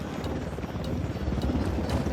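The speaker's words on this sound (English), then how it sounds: "Helicopter inbound." A helicopter approaches in the video game Ghost Recon Wildlands, heard as a steady, fairly faint rotor chop with rhythmic thumping, alone without talk.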